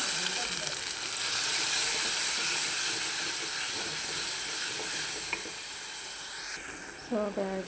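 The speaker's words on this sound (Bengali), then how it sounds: "এখন দিয়ে দেব পেঁয়াজ পেঁয়াজের সাথে রসুনটা আমি একটু মজে নেব" Onion and garlic fry in hot oil for a homestyle koi fish bhuna with satkora rind, making a loud, continuous hissing sizzle throughout, with a short clatter of a utensil at the end.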